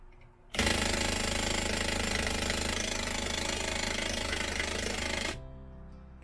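A boat's fuel pump kicks on and runs with a loud, steady, rough mechanical drone for about five seconds, then cuts off, leaving quieter background hum.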